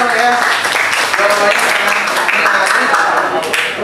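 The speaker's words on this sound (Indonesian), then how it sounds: "beri aplaus untuk Jamil ya" Classroom applause for a student, a loud burst of many hands clapping together that lasts a few seconds, with voices mixed in.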